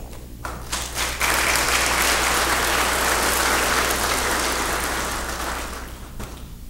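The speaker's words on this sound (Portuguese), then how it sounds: "É uma conquista, senhoras e senhores, digna de aplausos." Sustained applause from an audience at a ceremony honoring ministers of Brazil's STJ, a dense wash of clapping that swells quickly, holds loud and tapers off near the end.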